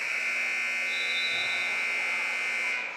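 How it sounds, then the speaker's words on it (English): A loud, steady electronic buzzer ends the third quarter of a girls' high school basketball game, blaring for nearly three seconds over faint crowd noise, then cuts off. "The buzzer sounds to end the third quarter of play"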